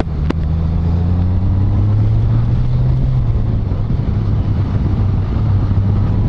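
A 2018 Honda Gold Wing motorcycle pulls away and cruises, its engine a steady low drone that rises in pitch, with heavy wind rush over the microphone throughout.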